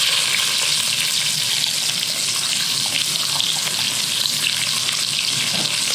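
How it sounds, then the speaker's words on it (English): Onions fry in beef fat and olive oil in a pot, a dense continuous sizzle heard up close and steady throughout. "Cook these onions in that beautiful beef fat and olive oil for about 10 minutes."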